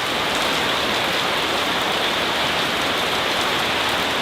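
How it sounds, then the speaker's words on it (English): Heavy pouring rain in a storm at the crab market in Kep, Cambodia: a dense, steady, loud hiss of downpour drumming on surfaces without a break. "as you can probably hear, it is absolutely pouring rain"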